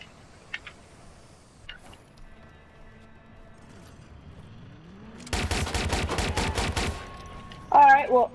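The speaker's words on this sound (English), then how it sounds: "I shot my paintball gun at him" A paintball gun fires a rapid burst of shots in the video game Watch Dogs 2, a dense rattling volley lasting under two seconds after quiet game sounds, followed by a short voice.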